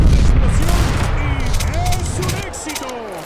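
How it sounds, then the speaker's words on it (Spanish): Rapid video game gunfire crackles in dense bursts with whistling streaks over a loud, busy mix, easing slightly toward the end. "¡Vemos algunos disparos!"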